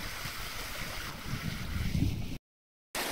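A Pegasus 50 sailboat runs off the wind in about 20 knots at sea, with a rushing wash of water and wind buffeting the microphone, briefly cut to silence near the end.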